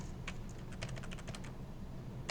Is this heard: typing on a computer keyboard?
yes